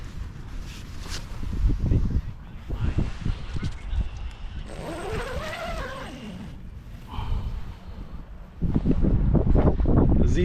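Wind gusts outdoors at a campsite among ultralight tents, buffeting the microphone in loud low rumbles that rise and fall, with a brief tonal squeak in the middle and no talking.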